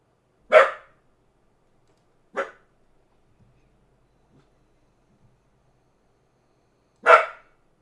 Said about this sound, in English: Maxie, come on, man. Don't bark.